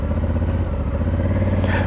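A Honda Africa Twin adventure motorcycle idles and lightly blips its throttle on gravel during slow figure eights, a steady close thrumming engine pulse with slight clatter.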